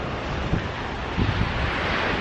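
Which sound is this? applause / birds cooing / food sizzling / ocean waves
ocean waves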